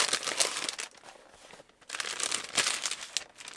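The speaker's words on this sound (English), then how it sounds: "Ooh, plastic bag." A plastic bag rustles and crinkles in bursts as it is handled while a boxed Doctor Who Dalek model kit is unpacked, loud and close with a brief pause midway.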